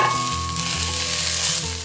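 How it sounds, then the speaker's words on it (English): Translucent onions and added garlic fry in a pan with a loud, continuous sizzle and a steady low hum underneath. "Now that the onions are translucent, I am going to add in some garlic and cook for about one more minute."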